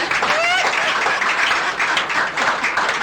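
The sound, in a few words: audience applause for a woman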